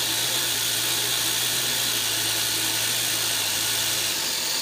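An X5C quadcopter's motors run at full throttle with a close, steady, high-pitched whine that stays level, then dips slightly in pitch near the end.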